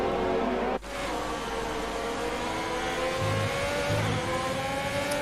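Racing game cars idle and rev on a formation lap at the Australian GP, a steady close engine drone with layered whirring tones, a sharp dip near the start then continuous rising revs.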